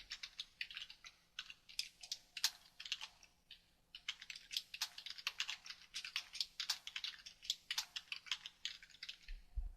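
Fast typing on a computer keyboard, a dense run of light, crisp key clicks in uneven bursts with a brief pause, close and fairly quiet, no talking.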